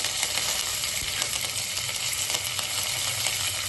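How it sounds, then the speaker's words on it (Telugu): Cashews sizzling in hot oil in a pan, a tempering for tomato rice, with a constant, bright, crackling hiss and faint stirring clicks and no talking. "ఇవి కొంచెం ఫ్రై అవ్వాలి"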